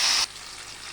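Lemon juice is poured into a pulihora rice mixture: a short, bright splash lasting about a quarter second, then near silence.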